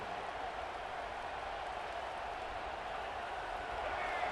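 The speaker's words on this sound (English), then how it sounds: "have the home crowd going absolutely bananas" A stadium crowd roars in the college football video game CFB 26 during a Florida State vs Georgia Southern matchup, a dense, steady wash of cheering that holds throughout without a break.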